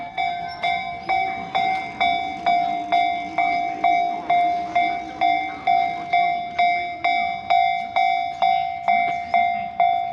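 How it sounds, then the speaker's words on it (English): A train passes close by near a shrine in Kamakura, Japan, its wheels striking rail joints in a steady, even clatter of regular beats, with a bright ringing tone sustained over the top throughout. "Probably just waiting for that train to leave."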